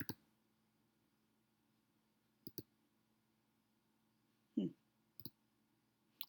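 A computer mouse clicks a few times while plotting a line of best fit in Desmos: a single click at the start, a quick double click near 2.5 s, and more clicks near 5.2 and 6.2 s. The clicks are close and crisp over a quiet hum, with a soft bump near 4.6 s.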